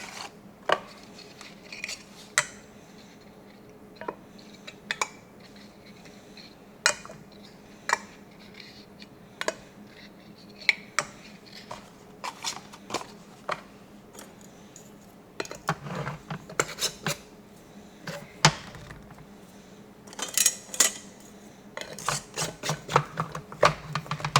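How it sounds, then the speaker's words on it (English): Metal canning lids and rings being set onto glass jars of roasted tomato soup: scattered sharp clinks and taps, irregular and close, growing busier toward the end. "Put the lids on, or the rings on finger tight."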